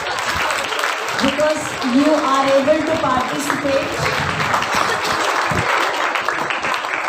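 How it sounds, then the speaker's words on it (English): Crowd applause for parents at a school festival, a steady wash of clapping throughout while a speaker keeps talking over it. "A big round of applause to parents"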